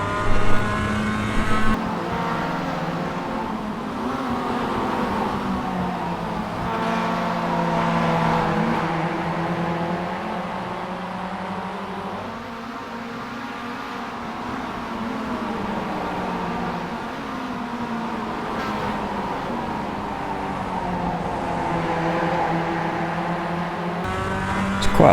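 Mazda MX-5 race car engine at Bathurst in iRacing, running in a slipstream: a steady, loud buzzing engine drone held for the whole stretch, pitch sliding up and down with gear changes and throttle.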